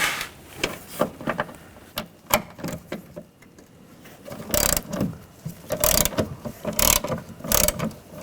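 A ratchet fitted with a T45 socket works a bolt out of an Audi A4 Quattro rear door, giving bursts of rapid close clicking separated by short pauses and a few handling knocks.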